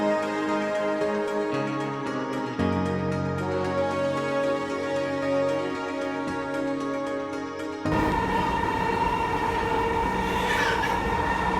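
A Dhaka metro rail train heard from inside the carriage near Uttara Diabari: a loud, steady rumble and hum of rolling wheels, rising into a brighter, harsher roar near the end.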